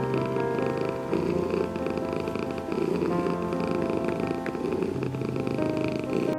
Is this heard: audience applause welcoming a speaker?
no